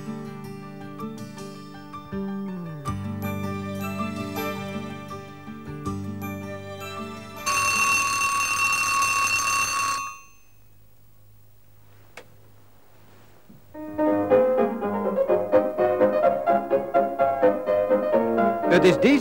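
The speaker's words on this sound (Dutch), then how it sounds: "Het is deze melodie die dit jaar precies 25 jaar lang de inleiding vormt tot de ochtendgymnastiek" A radio intro melody for a morning gymnastics programme, long in use, plays as a tinkling chime-like tune with a bright sustained burst, a short near-silent pause, then a busier run of notes.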